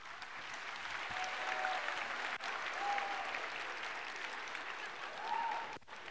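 Students in a university computer science lecture hall break into applause, a sustained, fairly soft patter of many hands that carries on for several seconds, with a couple of brief knocks and no speech.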